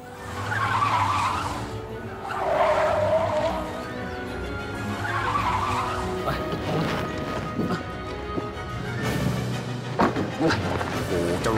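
A car speeding off with squealing, screeching tires, loud and close, the skid rising and fading in bursts before engine and scuffling noises, with some voices around it.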